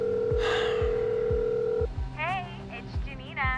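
A steady tone on a telephone line holds for just under two seconds, then cuts off and a voice answers, as a recorded greeting picks up the call.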